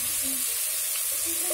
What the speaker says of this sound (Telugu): ఆనియన్స్ వేగుతున్నాయి